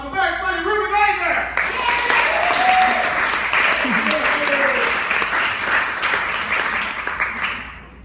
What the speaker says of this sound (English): big round of applause for the very funny Ruben Glazer!